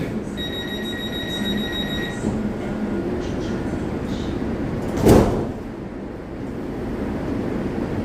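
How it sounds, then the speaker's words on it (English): Los Angeles Metro E Line train doors closing: a short chiming warning tone followed a few seconds later by a single loud thump as the doors shut, over steady train cabin hum. "Please stand clear. The doors are closing."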